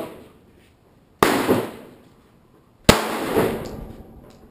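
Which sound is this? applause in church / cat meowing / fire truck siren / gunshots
gunshots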